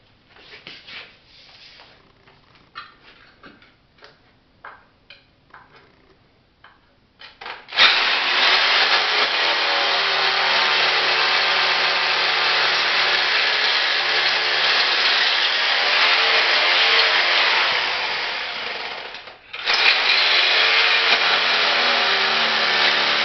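A drill bores anchor holes into a floor through an angle jig for a Fortress bottom plate, a loud sustained grinding whine after a few quiet taps and handling sounds, pausing briefly before resuming.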